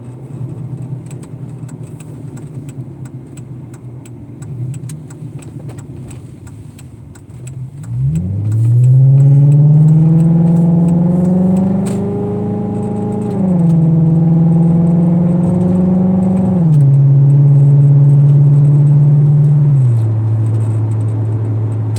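A car drives onto the interstate, its engine rising loudly from a low rumble into a steady accelerating drone that shifts pitch as it holds speed, close and continuous with no talk.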